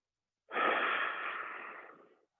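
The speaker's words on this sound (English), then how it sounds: "One more big breath." One deep, audible breath during an abs and core exercise class, a single breathy exhale that starts abruptly and fades over about two seconds, close and fairly quiet.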